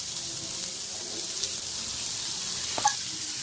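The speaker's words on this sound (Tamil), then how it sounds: "வெங்காயம் நல்லா வதங்கட்டும்." Onions saute in a pan for mushroom gravy, giving a faint, even sizzling hiss with a couple of small clinks near the end.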